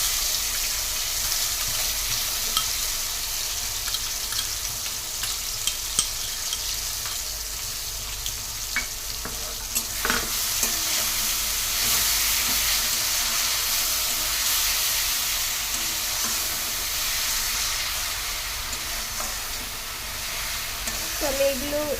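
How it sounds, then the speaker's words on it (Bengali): Spice paste sizzling steadily in a hot pan as it is stirred, a continuous frying hiss with occasional scraping clinks throughout. "তো এবার যে পেস্ট করে রাখা মশলাটা ওটা আমি দিয়ে দেবো।"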